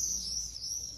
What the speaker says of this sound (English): There's some birds flying around.